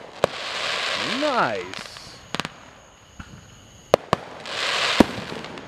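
Fireworks go off outdoors with a rising whistle, then sharp bangs and crackling bursts at intervals, some near and some distant, with a brief spoken remark.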